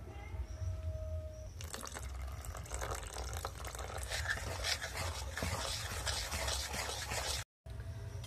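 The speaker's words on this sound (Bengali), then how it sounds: "ঠান্ডা জল নিয়ে নিয়েছি, এবার আমি দিয়ে দেব।" Cold water is poured into a mango mixture for a chilled mango drink, a close, continuous splashing and trickling that starts after a brief quieter moment and runs to the end, cut by a short gap.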